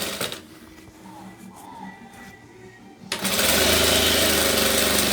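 A sewing machine stitches fabric layers for a ruffle. It starts abruptly after a quiet stretch with faint handling noise, then runs loud, close and steady in a fast continuous whir.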